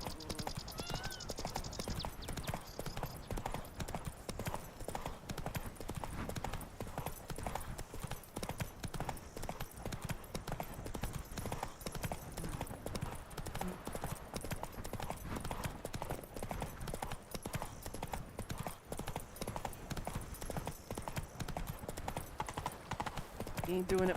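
Roach, Geralt's horse in The Witcher 3, trots with steady clip-clopping hooves throughout, a continuous rhythmic patter under game ambience and an occasional voice.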